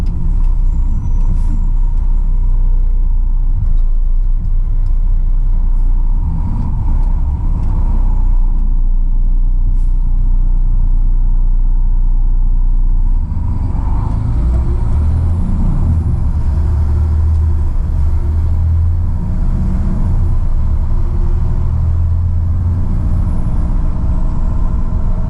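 A big truck's engine and exhaust rumble loudly and close by, a deep steady drone that shifts in pitch partway through as the truck changes load, with no voices over it.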